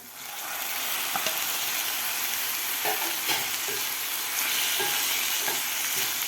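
Two chopped tomatoes fry with onions and cumin in a pan, giving a steady, close sizzle with occasional scrapes and stirs of a spoon.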